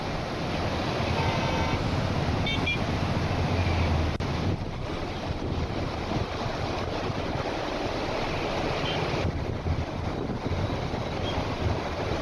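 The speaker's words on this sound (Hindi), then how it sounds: "अब वहाँ से पानी छोड़ा जा रहा है।" Water released from a full barrage dam after heavy rain roars in a dense, continuous rushing wash that stays loud and steady throughout, with no voices.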